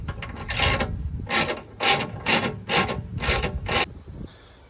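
Ratchet working on E-Torx E12 bolts holding a Sprinter van swivel seat: seven quick rhythmic bursts of loud, close ratcheting clicks, then a fade to quiet, with no talk.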